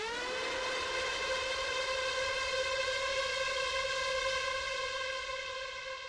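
Evolution Devastator Breakout synth band lead for an industrial metalcore track, one sustained bright harmonic-rich tone that bends upward at the start and holds steady, loud and alone.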